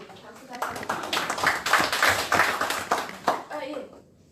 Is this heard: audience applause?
yes